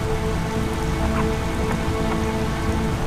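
Steady rain falls at night, a dense continuous patter of drops on surfaces with no breaks, fairly loud and even throughout, with no voices.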